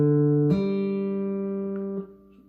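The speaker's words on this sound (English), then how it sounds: "Now what you do first is you hit these 2 strings open" Two open strings on a cigar box guitar plucked, a single ringing tone joined by a second bright attack that sustains and slowly fades, clear and close with no talking.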